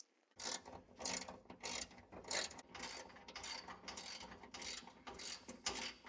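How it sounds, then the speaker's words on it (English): A ratchet wrench works loose the fender bolts on a G-body car, making quick bursts of fine clicking pawl ratchets in a steady back-and-forth rhythm, heard up close but quietly. "Tell me you're tired of ratchet wrenching."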